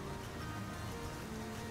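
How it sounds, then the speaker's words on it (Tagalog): Heavy rain pours steadily in Naga during a fiesta, a dense, continuous hiss with a low rumble underneath, close and unbroken from start to finish with no voices. "Grabing ulan dito sa Naga."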